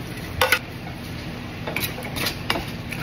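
Smoked fish (tinapa) dropped into a pan of cooking monggo and stirred, giving a couple of close clattering knocks and scraping stir sounds over a steady background hiss and a constant high whine.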